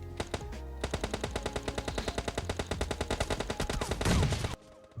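Gunfire in the mobile video game PUBG Mobile Lite: a loud, rapid run of shots for about four seconds, then an abrupt stop followed by quiet.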